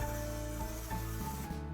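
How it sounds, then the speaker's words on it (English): Cooking spray hisses steadily from a can into a baking dish, one continuous close spray lasting under two seconds with a faint rubbing texture. "I'm gonna put some cooking spray in this"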